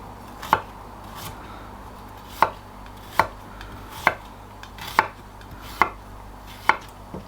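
A knife slices fresh ginger on a chopping board in sharp, distinct taps, about eight of them at a slow, uneven pace. The cuts sound close and fairly quiet, with no talking.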